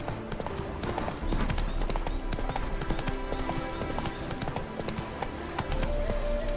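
Roach, the horse in The Witcher 3, walks with steady, close clip-clop hoofbeats, continuous and even over a busy game soundscape with faint musical tones.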